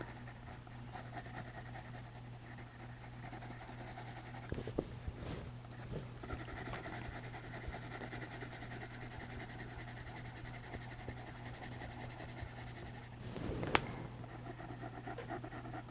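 A colored pencil scratches across paper while coloring a whale drawing, a soft, continuous scratching close by under a steady background hum, with a couple of brief louder scrapes.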